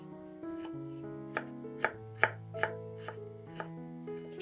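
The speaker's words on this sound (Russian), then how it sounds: "Нарезаем 1-2 зубчика чеснока." A kitchen knife chops garlic cloves on a board in about eight crisp, separate strikes at an uneven pace, set against a soft sustained musical background with no talking.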